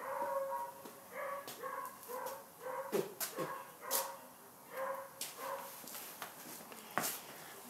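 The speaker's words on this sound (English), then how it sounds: "There's some pack of hunting dogs just come up in my yard and got my dogs going crazy." Several hunting dogs bark in a yard alongside resident dogs, overlapping barks, yips and whimpers in bursts throughout, fairly close and agitated.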